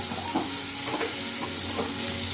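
Spices and a bay leaf sizzle steadily in a hot pan, with close scraping of a spoon stirring through the crackling oil.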